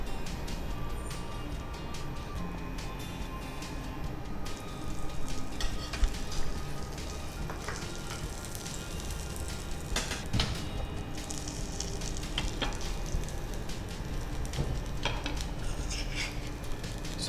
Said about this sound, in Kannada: ಇದು ಬಟರಲ್ಲಿ ಕಾಯಿಸ್ಲಿಕ್ಕೆ ಇದೆ